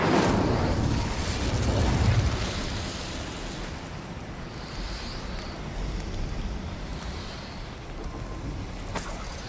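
Incendio, a fire spell in Hogwarts Legacy, erupts in a loud roaring whoosh of flame that swells in the first two seconds and then settles into a sustained rumbling burn, with no talking.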